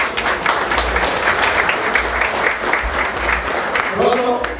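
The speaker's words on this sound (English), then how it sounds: "So a big round of applause to the honorees and to the awardees." Dense, steady applause from a large audience at a charity dinner gala for honorees and awardees. It fills the whole stretch without a break, with voices chattering underneath.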